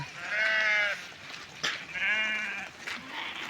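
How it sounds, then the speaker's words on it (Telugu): Two clear, close sheep bleats, each wavering cry lasting about half a second, separated by a short pause with quieter calls in between. "గొర్రెలు అక్కడ పోతున్నాయి చూడండి గైస్"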